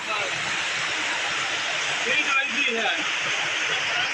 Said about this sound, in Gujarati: રાજકોટના ઉપલેટામાં ચાર દિવસથી સતત ધોધમાર વરસાદ વરસી રહ્યો છે